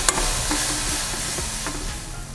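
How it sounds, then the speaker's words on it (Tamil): Green chilies sautéing in a pan over a low flame, giving a steady soft sizzle with a few faint stirring scrapes throughout and no voices. "இந்த பச்சை மிளகாய் இந்த பச்சை ஸ்மெல் போகிற வரைக்கும் நல்லா வதக்கிக்கலாம்"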